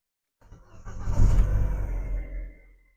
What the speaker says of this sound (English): you can hear the engine is powered up, and that will start.